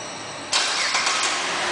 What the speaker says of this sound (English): There it goes.